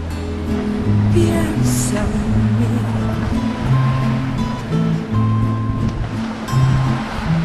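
Ocean swell and waves wash around a sailboat at anchor off Bonaire, a steady rushing surf with irregular surges, mixed with a low tonal drone that wavers throughout.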